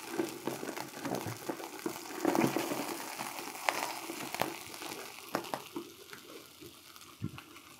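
Sea bass fillets frying in a pan give a steady close sizzle and crackle, with scattered pops and stirring clicks throughout and no talking.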